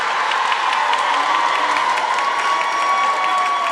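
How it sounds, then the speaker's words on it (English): Loud, steady crowd noise with applause and cheering filling a gym at a high school volleyball match between Blue Valley Northwest and Olathe East, continuous throughout with no break. "there's some energy in the building for this match. It's a loud crowd."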